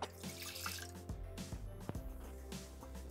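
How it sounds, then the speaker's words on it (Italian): Water is poured into a Thermomix mixing bowl while making dough, a soft trickling and splashing stream with a few small gurgles and drips, quiet and close. "Versiamo all'interno del boccale l'acqua"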